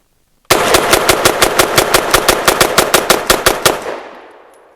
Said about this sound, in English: I'm going to dump into the berm and see what I can get for speed